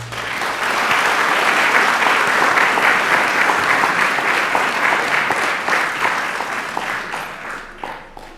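Audience applause at a school board of education meeting fills the room, steady and dense for several seconds before thinning into scattered claps near the end.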